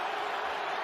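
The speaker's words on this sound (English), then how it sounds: "And this crowd is right back into it." Large arena crowd of about 16,000 at a Penn State versus Ohio State college wrestling match, a dense, roaring wash of cheering that holds steady throughout this short moment.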